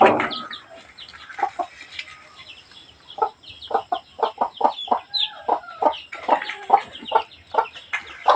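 Chickens cluck in quick, irregular bursts close by outdoors, a busy run of short clucks with a few louder squawks, no talking over them.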